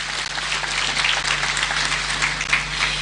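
Audience applause at a university graduation ceremony, a steady wash of clapping over a low electrical hum, heard from a distance through the venue's sound system.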